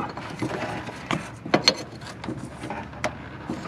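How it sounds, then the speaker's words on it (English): A ratchet tightens the jam nut on a Jeep steering box, giving a few sharp, uneven clicks and metallic ticks at close range, with no talking over them. "go ahead and tighten up your jam nut again"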